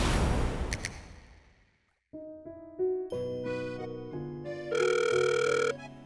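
A telephone rings with a melodic electronic ringtone of stepped, chiming notes before a call is answered, preceded by a brief whoosh and a short pause.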